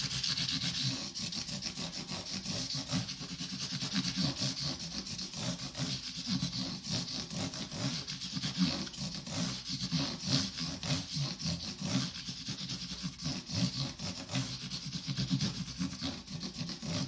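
800 grit sandpaper rubs back and forth over the frets of a Gibson Hummingbird Pro acoustic guitar, a close, steady rhythmic scratching that continues without a break and with no voices.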